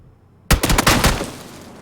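A rapid burst of close, loud gunshots in PUBG starts abruptly and rattles off several times in quick succession before fading into an echoing tail.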